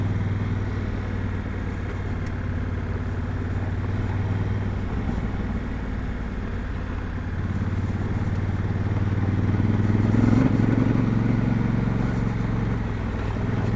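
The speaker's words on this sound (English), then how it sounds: "Okay, here we go on the gravel. First time on the gravel with the Tractionators." A Honda Africa Twin motorcycle on MotoZ Tractionator adventure tires rides over gravel. Its engine drones steadily and close throughout, with a rough, clattering texture that swells slightly toward the end.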